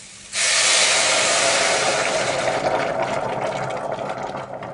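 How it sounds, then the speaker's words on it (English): An electric kettle reaches a rolling boil in a kitchen while soup cooks: a broad, steady roar of bubbling and hiss starts abruptly and fills the clip, loud and close, slowly easing toward the end, with no one talking. "Kettle boiled."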